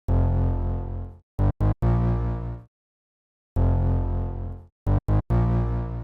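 A vintage soul bass sample from a Nico bank plays a deep phrase of long held notes broken by short staccato hits, then repeats the pattern after a brief silence, loud and alone.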